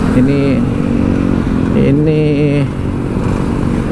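Kawasaki Meguro S1 motorcycle engine running nearby with a steady, throbbing hum, under someone talking throughout.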